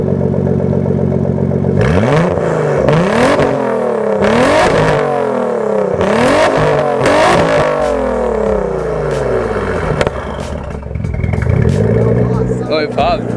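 Twin-turbo Nissan 300ZX with a full straight-pipe exhaust revs hard several times in quick succession, each rising roar falling away with turbo whoosh, then settles into a rough idle; loud and close, with excited voices talking over it.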